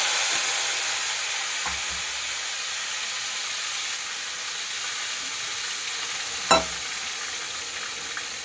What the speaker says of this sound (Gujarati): અને હવે આપણે ટમેટા એડ કરી દેવું।